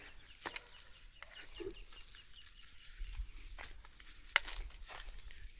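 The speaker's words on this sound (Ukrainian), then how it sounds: "Качки пасуться" Ducks cluck and call in scattered bursts while grazing around an outdoor yard, with faint rustling and a few sharper calls standing out.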